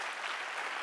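Audience clapping during a leadership lecture on the Gita, a continuous, even wash of applause filling the whole brief moment with no pauses.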